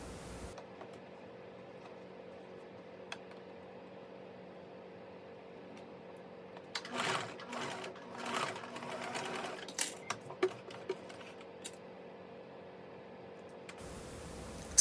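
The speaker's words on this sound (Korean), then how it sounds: "소매를 항상 위치를 확인을 해가면서 자리를 잡아가면서 천천히 바느질을 하는 게 요령입니다" A sewing machine stitches the sleeve of a button dress in short uneven bursts, rattling and whirring close by between quiet stretches, with faint hum at the start and end.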